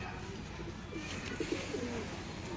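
Pigeons of a Sialkoti breed coo softly in a loft, their low murmuring steady throughout against a constant background hiss, with a faint voice briefly audible midway.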